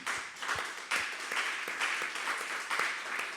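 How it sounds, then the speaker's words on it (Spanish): A church congregation applauds during a discipleship class, a steady wash of many hands clapping with a few sharper individual claps standing out, moderately loud and continuous for a few seconds. "Le damos un aplauso al Señor por lo bueno que es."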